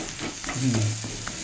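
Food frying in a pan being stirred, a short close scraping and sizzling burst with a low hiss, no talk.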